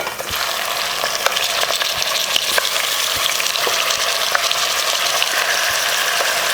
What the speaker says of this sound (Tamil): இதை நம்ம கலந்து வச்ச சிக்கனை இதில் சேர்த்துக்கலாம்